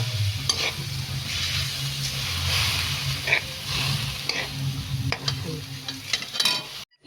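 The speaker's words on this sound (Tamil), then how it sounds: "லேசாக ஒரு வதக்கிட்டு ரைஸை போட்டுடலாம்" Tomato and soaked basmati rice sauté in a pot for ghee rice, with a low continuous sizzle under repeated scraping stirs and clinks of the spoon, close by and fairly quiet, with no talking.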